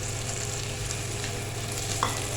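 Tomatoes and green chilies sizzling with onions in a pan, a steady soft frying hiss with a brief stir partway through and no voices.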